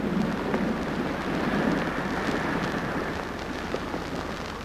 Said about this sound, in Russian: Тысячелетиями тяжелые тучи низвергали мощные ливни